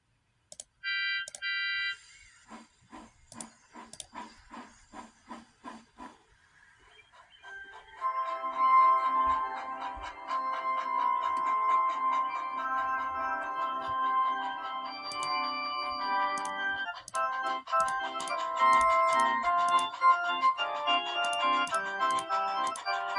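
Organ music played by a headmaster: a few sparse opening notes give way to sustained, layered chords that swell and continue steadily, fairly loud and alone with no voices.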